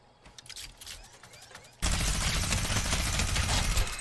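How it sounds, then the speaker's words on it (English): A minigun in Fortnite fires a sustained, dense roar of rapid shots that starts abruptly partway through and stays loud and continuous to the end, after a quieter stretch of softer game sounds. "Minigun."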